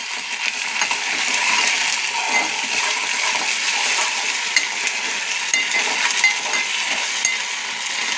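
Ginger garlic paste frying with onions in a pan for chicken gongura curry, a steady close sizzle with scattered metallic clinks of stirring throughout.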